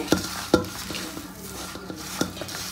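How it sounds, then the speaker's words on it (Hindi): Mathri dough with coarse sugar is worked by hand in a bowl as water is added little by little, giving soft squelching and pressing sounds with a few sharper knocks, close and fairly quiet with no talk. "अब हम धीरे धीरे पानी की सहायता से इसको गूंथ लेंगे"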